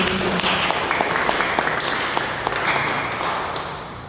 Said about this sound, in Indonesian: Beri tepuk tangan buat Tuhan.